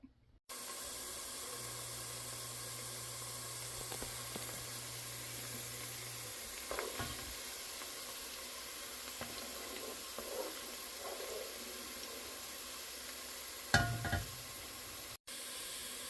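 Garlic fries in hot oil for chili crisp, a faint, steady sizzle that runs without a break as the pieces brown, with a few soft stirring knocks along the way.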